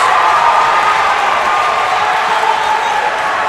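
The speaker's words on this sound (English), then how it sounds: "Crowd's loud." Loud crowd roaring and cheering in a packed university gym at a college volleyball match between Tennessee Southern and Blue Mountain Christian, a steady dense wall of noise throughout.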